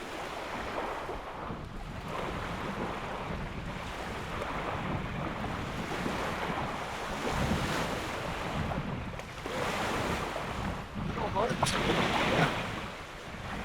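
Waves lapping and breaking along the shore of Pyramid Lake under steady gusting wind, a continuous rushing wash with wind buffeting the microphone throughout.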